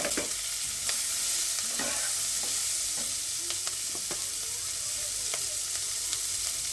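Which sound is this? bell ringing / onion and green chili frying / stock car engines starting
onion and green chili frying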